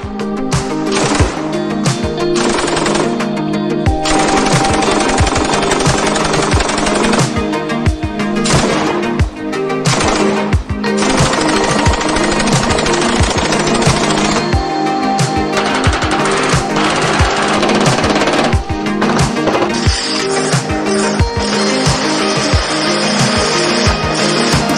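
A Daewoo K3 light machine gun, firing 5.56x45mm NATO, rattles off loud rapid bursts of sharp cracks, some long sustained strings of shots and brief pauses between them, close and dominant.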